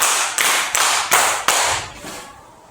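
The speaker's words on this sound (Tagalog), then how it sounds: "Bigyan ng 5 palakpak ang inyong mga sarili." Five sharp claps in a steady rhythm in a school classroom, each ringing briefly before the next, fading out at the end with no talking.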